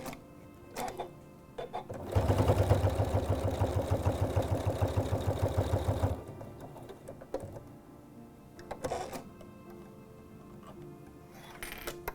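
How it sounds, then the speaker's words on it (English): A sewing machine top stitches with a bi-level foot, a steady rapid mechanical whir of stitching lasting about four seconds, loud and close, with quieter handling clicks and rustles before and after. "And I'm going to top stitch all the way around"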